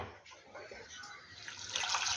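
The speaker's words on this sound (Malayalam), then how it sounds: "ആവശ്യത്തിന് വെള്ളം ഒഴിച്ച് ഒന്ന് വേവിക്കാം." Water is poured into a pan of cucumber with turmeric, chili powder and salt for a Kerala pulissery; a steady splashing pour that grows louder and brighter toward the end, with no talk.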